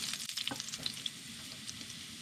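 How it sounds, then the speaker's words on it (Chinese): Beef filling sizzles and crackles in sesame oil in a hot pan, a steady close frying hiss with a few sharper pops, and no voices. "锅烧热后倒入芝麻油2勺"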